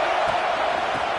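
Crowd noise at a college football rivalry game between the Gators and Seminoles, a dense, steady roar from a packed stadium with no breaks.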